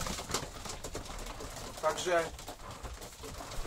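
Domestic racing pigeons cooing in a loft, soft throaty coos close by, heard intermittently under someone speaking.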